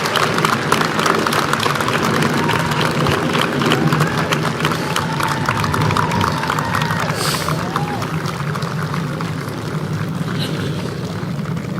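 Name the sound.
graduation audience applause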